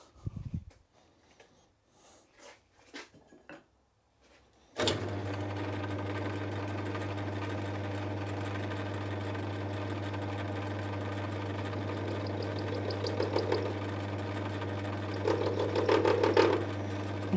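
A metal lathe starts up and runs steadily while turning a part for a custom Royal Enfield motorcycle build, giving a continuous loud mechanical hum with a faint rising whine near the end, after a few quiet knocks and clunks.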